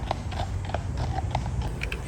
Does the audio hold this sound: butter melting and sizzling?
no